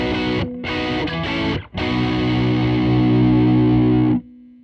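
An electric guitar plays through a Strymon Sunset dual overdrive pedal set to its Germanium drive, giving a few short distorted chord stabs followed by a long sustained chord that cuts off cleanly.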